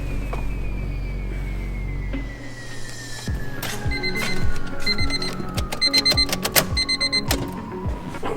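With the ignition switched on, a car's engine hum fades out and a repeating electronic warning chime pulses steadily, close and clear inside the cabin.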